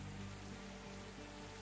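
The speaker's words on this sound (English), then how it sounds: "Man, the rain is really coming down." Steady rain pours in the factory-building game Captain of Industry: a continuous, even hiss with a low hum beneath it, with no voices.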